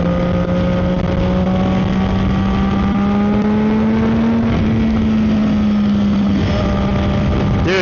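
A tuned CFMOTO 675SS motorcycle accelerates through the gears, its engine note climbing steadily and loud with a brief dip at a shift, under heavy wind rush.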